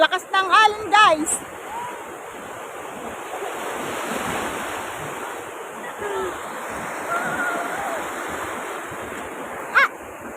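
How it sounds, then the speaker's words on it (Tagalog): Strong ocean waves break on a beach in a steady, rumbling wash with wind noise, while excited voices shout and call out briefly at the start and near the end. "Malakas ng alon, guys."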